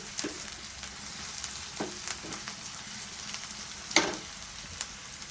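Onions and garlic frying in a pan for a mushroom curry, a steady low sizzle with occasional soft stirring scrapes and taps, close and fairly quiet.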